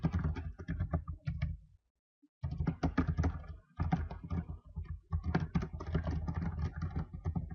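Fingers type a username on a computer keyboard in quick bursts of close, crisp clicks, with a brief pause near the start and steady tapping afterward.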